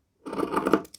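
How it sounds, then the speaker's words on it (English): Scissors snip through fabric to cut strips in one short, close crunching cut lasting under a second, followed by a couple of faint clicks. "Then cut strips. I'm cutting it a bit narrower than my index finger,"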